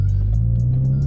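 Low, steady exhaust rumble from a Ford Focus ST with an aftermarket exhaust, a loud, close drone holding even through the short stretch with no speech.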